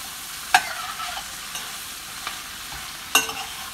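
Chile and onion stirred and fried in a pan for fajitas with epazote, a steady soft sizzle broken by a few sharp scraping clicks of the spoon, close and alone.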